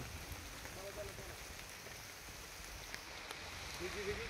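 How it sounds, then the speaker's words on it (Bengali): Steady heavy rain pours down, a dense continuous hiss of drops striking surfaces close by. "প্রচণ্ড বৃষ্টি হচ্ছে, যার জন্য বৃষ্টিতে ভিজে ভিজেই আমাদের যেতে হচ্ছে এই মুহূর্তে বাড়ি।"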